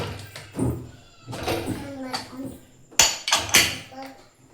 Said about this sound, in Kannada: ಈಗ ಕುಕ್ಕರ್ ಲಿಡ್ ಮುಚ್ಚಿ